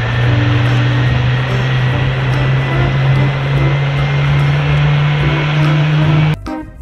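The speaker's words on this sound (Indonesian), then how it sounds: "Wadidaw, ini pesawat terbang." A toy airplane gives off a loud, steady electronic propeller-engine drone with a sustained hum, running unbroken before cutting off abruptly near the end.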